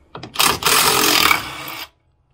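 Impact gun spinning out bolts on a CFMOTO ZFORCE side-by-side, one loud, close burst of about a second and a half that opens with a couple of short stuttering pulses and then cuts off sharply.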